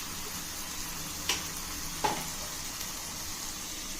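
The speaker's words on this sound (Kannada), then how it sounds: "ಟೊಮೊಟೊ ಹಾಕಿ ಸ್ವಲ್ಪ ಮಿಕ್ಸ್ ಮಾಡ್ಕೊಬೇಕು." Tomato frying and being stirred in a pan for mutton brain fry, a steady soft sizzle with two brief scraping clicks of the spoon, fairly quiet and without talk.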